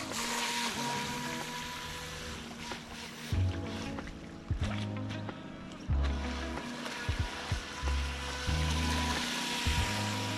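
An FTX Glader TY XIN 725 RTR radio-controlled jet sprint boat runs on open water on its maiden outing, its motor whining and surging in repeated throttle bursts over a steady background of wind and water.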